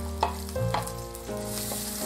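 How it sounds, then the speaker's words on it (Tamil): Chopped onion and garlic with cinnamon-clove powder sauté in hot oil for a Tamil mutton white kurma, a steady close sizzle with a stir or clatter of the pan and no talking. "எல்லாத்தையும் சேர்த்து நல்லா வதக்கணும்."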